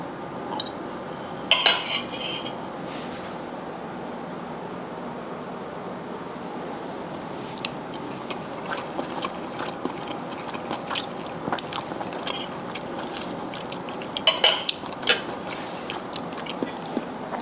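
Cutlery clinks and scrapes on a plate while beef tapa with egg and rice is served and eaten, with sparse sharp taps clustered in short bursts over quiet chewing and background hiss, no talking.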